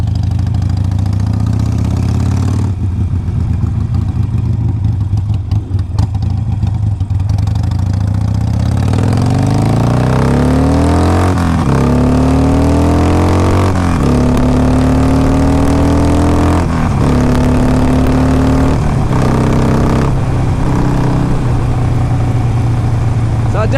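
A 2007 Harley-Davidson 883R motorcycle engine revs and pulls through repeated gear changes on a test ride, its rising pitch climbing and dropping several times, loud and continuous with wind noise.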